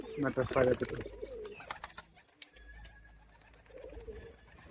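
Pet Madrasi pigeons coo in a close, soft burst of throaty calls, followed by quieter intermittent cooing under people talking nearby.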